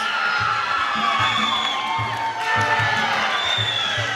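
A crowd at a boxing bout cheers and whoops for Victoria's Erin Carter, loud continuous shouting over pulsing arena music with a steady beat.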